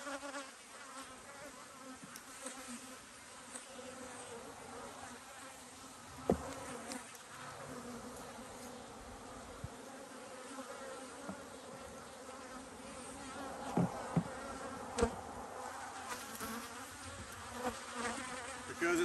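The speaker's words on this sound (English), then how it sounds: "Let these bees tend to it." Honey bees buzz steadily around an open hive at an apiary during a hive inspection, a dense continuous drone with a few faint clicks and knocks from handling frames, no talking.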